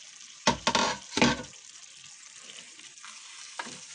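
Pav bhaji bhaji sizzles in a pan with a low, steady frying hiss under two louder bursts of stirring and scraping near the start and a few softer clinks later; close and fairly quiet, no voices.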